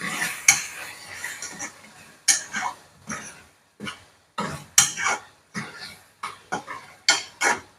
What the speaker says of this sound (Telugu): టమాటాలు అయితే మగ్గుకొని ఒక్కసారి కలుపుకుందాం